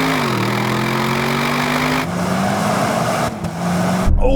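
An Audi RS6 estate launches hard off the line in a drag race, its engine roaring loud and close with a rising pitch that drops at each gear change before climbing again.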